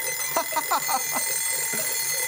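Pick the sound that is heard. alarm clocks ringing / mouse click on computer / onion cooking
alarm clocks ringing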